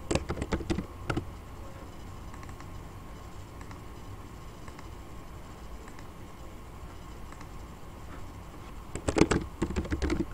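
Bursts of rapid typing on a computer keyboard while entering an airline relational data model, with crisp clicks at the start and again near the end and only quiet room tone between them.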